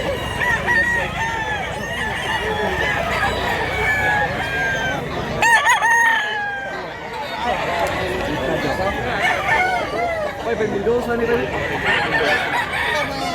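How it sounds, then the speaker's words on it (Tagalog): Gamefowl roosters crow repeatedly among clucking fowl at a farm in Mantalungon, Cebu, overlapping calls near and far, with people chattering in the background. "Gandang manok."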